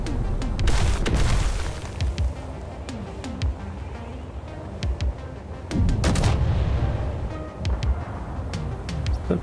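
Rapid bursts of gunfire and booming impacts from a Space Engineers space battle, dense and loud, with repeated heavy hits that swell around the middle and near the end.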